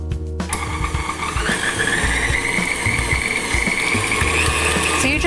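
An electric mixer churns molasses into gingerbread dough, a steady close motor whine with a rattling beater texture running unbroken for about five seconds after a brief start.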